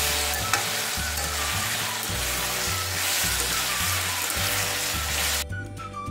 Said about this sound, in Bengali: তাহলে আলু পেঁপেটা একটু ফ্রাই হোক